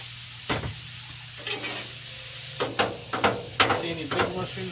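Vegetables and mushrooms sautéing in ghee on a Blackstone griddle, a steady low sizzle under a series of sharp metal spatula scrapes and taps that cluster toward the end.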